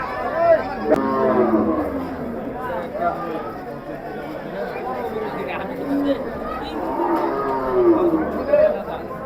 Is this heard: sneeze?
no